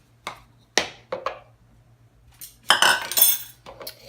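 Metal cutlery clinks and scrapes against a dish as a vegan tuna mixture is scooped into a bowl, coming in several sharp, close knocks and a busier scraping burst near the end.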